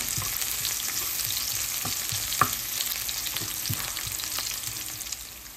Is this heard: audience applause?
no